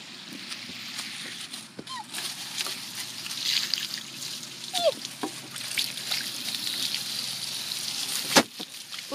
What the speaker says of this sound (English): There's holes in it. Whoa, no, it's splashing me.